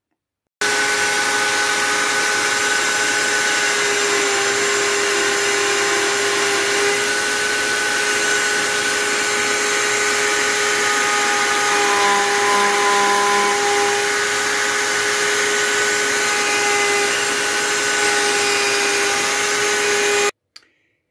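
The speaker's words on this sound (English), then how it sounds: "so I can start routing" A PantoRouter routing dovetails into drawer box stock for a tight pin-and-tail fit, a steady loud router whine with constant hum running without a break for about twenty seconds, no talking.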